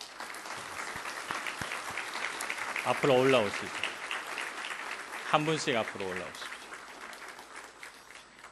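Sustained congregational applause in a Korean church in Milan welcoming newly confirmed members, a steady wash of clapping through the whole stretch while someone speaks over it at moderate distance.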